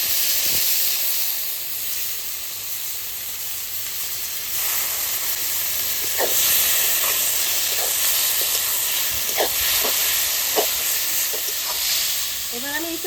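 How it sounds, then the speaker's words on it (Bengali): Goat fat goes into a hot pan of fried spice masala for a jackfruit curry, producing a loud, steady hissing sizzle with scattered spoon scrapes and clicks building through the second half. "এবার আমি চর্বিটা দিয়ে দেবো মশলা কষানো হয়ে গেছে"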